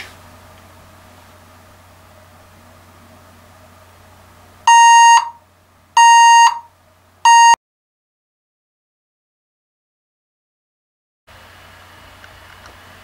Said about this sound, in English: The really loud beeping was annoying.